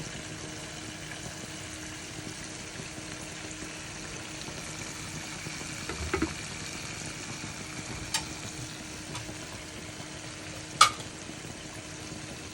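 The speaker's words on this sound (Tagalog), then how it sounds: "Kasi itong aking first batch na prito." Food frying in oil gives a steady, close hiss and sizzle throughout, with a few faint clinks of a utensil against the pan and no talking.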